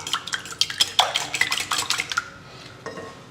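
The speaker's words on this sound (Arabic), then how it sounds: "أضيف على البيض ما يقارب ملعقة طعام من الفانيليا السائلة، ونخفق البيض جيدا" A whisk or fork beats eggs with liquid vanilla in a bowl, giving fast, close clinking against the sides in an irregular rhythm that fades toward the end.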